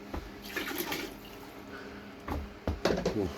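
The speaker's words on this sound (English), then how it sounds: "I'm gonna hit it with like another cup of water." Water is poured from a cup onto a freshly cast concrete piece, giving faint splashing and trickling bursts, one early and a couple of short splashes near the end, with quiet gaps between them.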